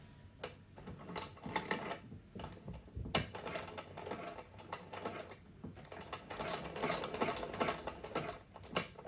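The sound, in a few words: sewing machine stitching elastic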